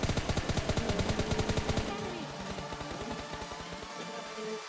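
Rapid automatic gunfire in PUBG Mobile Lite, a fast, even rhythm of loud shots that runs throughout, with the shots thinning slightly toward the end and no talk.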